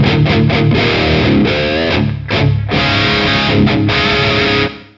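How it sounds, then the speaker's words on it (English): Distorted electric guitar played through a GP-5 effects unit with a very small room reverb adding slight stereo ambience; loud sustained chords and notes with brief gaps, alone with no talking. "very small room reverb"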